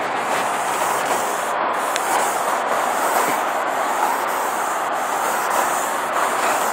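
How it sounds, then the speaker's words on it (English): Wet sanding on the paint of a 1995 Mercury Grand Marquis in the sun gives a steady, close, continuous abrasive rubbing that holds an even level throughout. "I like wet sanding in the sun because it lets me see my mistakes"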